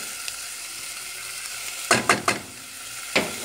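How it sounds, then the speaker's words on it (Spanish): Onion, garlic, carrot, mushrooms and other vegetables frying in olive oil, a soft steady sizzle broken near the end by a few sharp stirring clacks and scrapes in the pan. "Vamos a agregar lo que es cebolla, ajo, realmente todas las verduras las vamos a agregar aquí."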